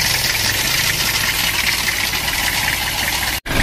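Diesel engine of a Toyota Kijang idling steadily while warming up after an engine overhaul, a close, continuous rough rumble with a faint knock, ending in a brief cutout.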